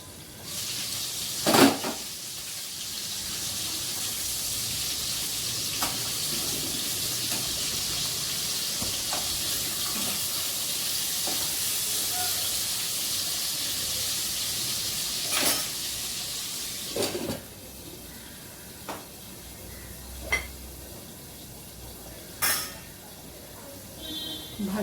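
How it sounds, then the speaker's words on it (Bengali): Steady, bright sizzling hiss of fish frying in hot oil, continuing throughout with a few sharp pops and crackles scattered over it. "এদিকে মাছটা ভাজা হচ্ছে"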